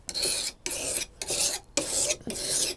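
A coarse file rasps across metal fishing tackle in a cabin setting, making five loud, even strokes separated by brief pauses, close up with no talking.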